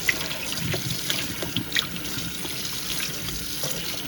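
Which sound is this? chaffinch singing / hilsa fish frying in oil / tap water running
tap water running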